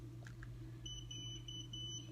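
An Omnipod insulin pod's PDM controller beeps for a pod change, emitting faint high, thin tones in a short series of pulses over a steady low indoor hum.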